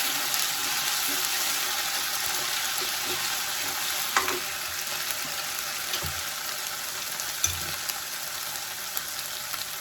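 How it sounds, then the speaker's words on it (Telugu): Masala paste frying in a pan for a spicy Telangana brinjal gravy, a continuous soft sizzle with occasional scrapes and light knocks of stirring. "పచ్చివాసన పోయే వరకు వేయించుకోవాలి."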